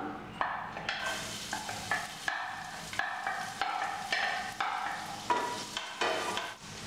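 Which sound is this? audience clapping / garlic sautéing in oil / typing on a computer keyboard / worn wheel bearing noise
garlic sautéing in oil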